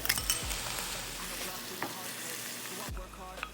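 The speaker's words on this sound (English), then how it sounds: "you're simply going to stir all the ingredients together until the noodles are coated with the sauce" Vegetable japchae being stir-fried in a pan with sauce, blanched spinach and noodles, giving a steady sizzle with a few sharp utensil scrapes and clinks against the pan.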